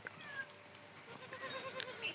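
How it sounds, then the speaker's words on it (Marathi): A goat bleating on a farm, short thin cries recurring close by over faint outdoor background. "शेळी बघा"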